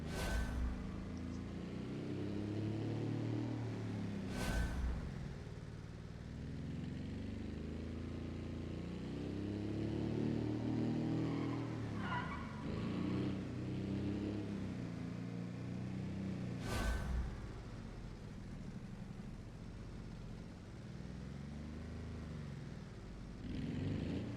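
A car engine hums and rises and falls through gear changes while driving slowly into a parking lot, with a few sharp clicks or knocks along the way.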